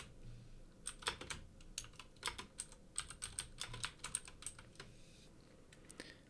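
Fast typing on a computer keyboard, bursts of clicky keystrokes with short pauses between, close and fairly quiet in a calm room.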